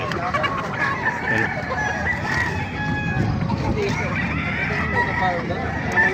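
Lemon Sweater gamefowl roosters crowing at a farm in Bustos, Bulacan, several loud nearby crows overlapping amid clucking and background voices.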